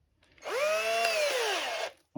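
A power drill with a 5/32 bit whirs up in pitch, drilling a pilot hole, runs steadily for about a second and a half, then winds down and stops, close and loud.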